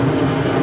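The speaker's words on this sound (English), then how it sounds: "Sorry about the planes." Airplanes passing overhead near an airport, a steady, loud broadband engine roar that fills the whole moment with no let-up and no voices.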